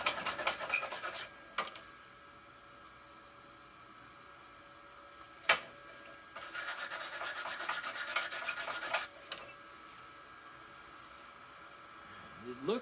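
A small wire brush scrubs flux slag off a fresh flux-core weld, giving bursts of dry, raspy rubbing that stop and restart, with sharp scratchy strokes between them, up close and fairly quiet.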